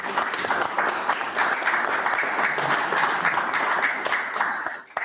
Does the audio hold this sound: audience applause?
yes